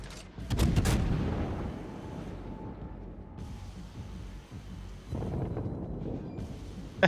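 Heavy naval guns of a warship firing salvos at the cruiser Fiji in World of Warships, booming blasts in quick succession at the start with a rumbling tail, another burst of firing later.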